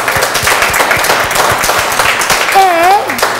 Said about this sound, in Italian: Io chiederei un grande applauso di incoraggiamento per Rosy